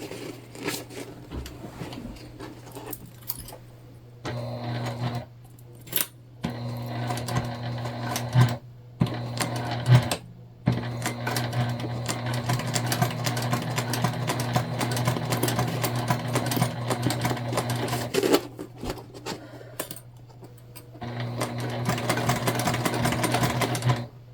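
A sewing machine runs in steady bursts while stitching the panels of a tote bag, with short pauses between runs as the fabric is lined up, close and fairly loud, alone without talk.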